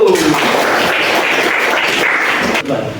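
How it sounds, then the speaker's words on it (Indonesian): Loud, close applause from a class of students for a student group, a steady wash of clapping that thins slightly near the end. "Mari kita beri tepuk tangan untuk kelompok 1."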